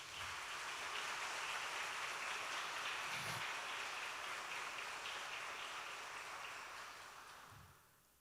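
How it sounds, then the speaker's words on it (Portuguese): A church congregation applauds at a deliverance and miracles service, a dense, steady wash of many hands clapping that holds evenly and then fades out toward the end, with no talk over it. "Vamos aplaudir a Deus por isso."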